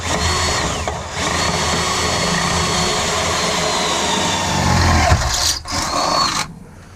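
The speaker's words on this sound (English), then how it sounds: "drill those holes, and we'll drop the bolts in" A loud, steady whirring of a power drill boring a hole through a car floor runs for several seconds, rising slightly in strain near the end before cutting off abruptly.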